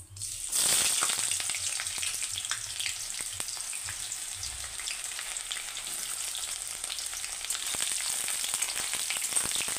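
Sliced onions hit hot oil already spiced with cloves, cinnamon and cardamom for an Assamese-style sesame broiler chicken curry, sizzling loudly and steadily right after a sharp initial burst, with scattered crackles and spoon scrapes, no voices.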